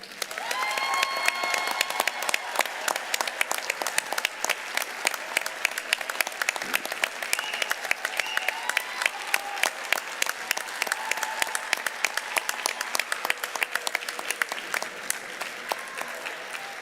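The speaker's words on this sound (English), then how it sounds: "Please join me in another round of applause for our graduates." Sustained applause from an audience at a university commencement for graduates, dense steady clapping lasting the whole stretch, fairly distant and even, with no voices over it.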